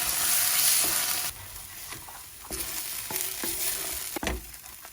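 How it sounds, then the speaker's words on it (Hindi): Spices fry with golden brown onions in a pan for prawn balchao, a constant close sizzle and hiss broken by scraping stirs and occasional clinks. "अब मसाला मैं डाल देता हूँ इसमें और 10 मिनट इसको अच्छी तरह से भून लेता हूँ"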